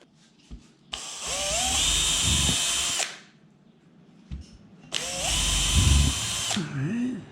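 Power drill driving screws while a ZLINE island range hood is installed, two loud, steady whirring bursts of about two seconds each with brief pauses and faint clicks between them.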